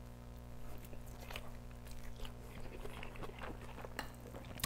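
Someone eats kimchi fried rice with tuna, close and quiet bites and moist chewing crunches repeating irregularly over a faint steady background hum.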